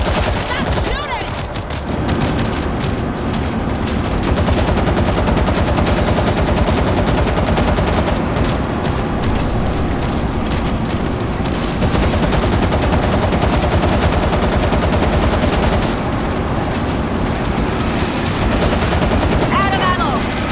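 Dense, continuous automatic gunfire and explosions from a shooter video game running on an MSI GTX 660 2GB GDDR5 graphics card, loud and unbroken throughout, with in-game voices shouting over it.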